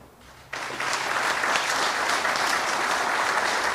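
An audience at a military promotion ceremony for a brigadier general breaks into sustained applause, the clapping starting abruptly and continuing loud and dense with no voices over it.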